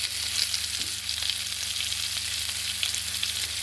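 Chopped onion frying in hot oil with spices for a rohu fish curry cooked in a village, a steady close sizzle and crackle under a low constant hum, with no talk.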